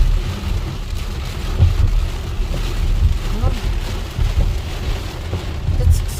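Steady rain pours during a thunderstorm in Illinois, a dense hiss with low rumbling swells throughout; a person briefly speaks over it.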